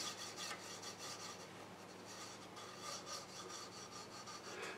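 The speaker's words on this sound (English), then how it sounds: "I take a little file and give it a clean and then maybe use a sandpaper" A small hand file rasps on a part of an old model boat in steady, quiet back-and-forth strokes, a regular rhythm of close scraping with no talking.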